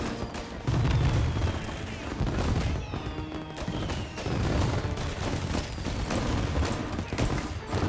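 Gunfire in a gangster-themed video game, a run of loud close shots and booms in quick bursts, with speech mixed in over the shooting.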